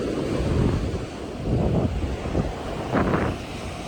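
Ocean surf and wind at a beach in Vizag: a steady roar of waves with heavy wind buffeting the microphone, continuous and loud, with no talk.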